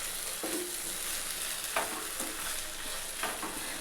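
Yogurt is stirred into a fish curry in a pan over low heat: a soft continuous sizzle with three distinct scraping strokes of a spoon, fairly quiet and close, with no voices.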